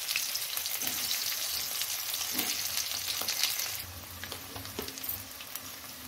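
Pre-boiled potatoes fry in a pan for a fish curry, giving a steady, close sizzle with scattered stirring clicks that eases slightly partway through.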